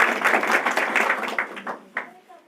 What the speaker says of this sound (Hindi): इनके लिए पुनः आप इनके लिए जोरदार ताली बजाएं।